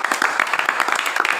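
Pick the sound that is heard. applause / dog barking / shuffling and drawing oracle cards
applause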